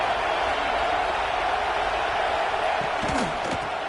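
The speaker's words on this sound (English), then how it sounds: "Comes the noise. This crowd is trying to inspire this defense to make a big red zone stop." A college football stadium crowd roars steadily and loudly as fans urge the defense toward a red zone stop, with a dense, unbroken wash of noise throughout.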